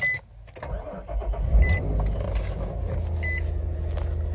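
Vehicle started with a key fob: a few electronic beeps and chimes, then the engine cranks and catches into a steady, close idle hum that continues to the end.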